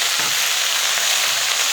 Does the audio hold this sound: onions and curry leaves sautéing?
yes